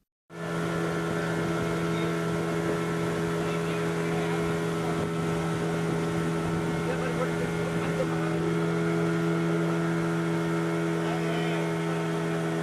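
A motorboat carrying passengers in life jackets on a pleasure ride around a wooded island in Sivakasi, its engine droning steadily and loudly with a constant low hum and wind noise throughout.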